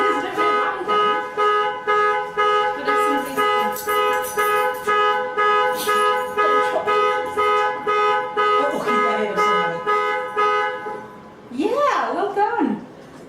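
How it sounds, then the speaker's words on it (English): A loud car alarm blares in a steady pulsing pattern of repeated tones, then shifts to a rising and falling wail, with people talking nearby. "it's just gonna go, it's an alarm"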